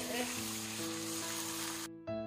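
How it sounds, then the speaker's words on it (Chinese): Pork and seasonings stir-frying in a wok for a Shanxi-style pork noodle topping, a loud steady close sizzle under a low background hum that cuts out abruptly near the end. "所有的调料全部放到锅里以后，我们用铲子多翻炒一会儿，煸出香味儿。"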